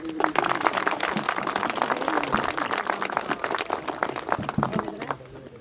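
A crowd applauds at an outdoor birth-anniversary statue unveiling in a Nepali village municipality, dense steady clapping that holds for several seconds before thinning out at the end, with faint voices mixed in.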